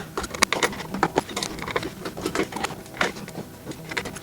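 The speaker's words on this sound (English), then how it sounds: "Okay, so all the screws accounted for. Let's start tightening these up." A screwdriver tightens the small screws on an MSI Gaming X Trio graphics card during reassembly, giving quiet, uneven ticks, clicks and light rattles close by.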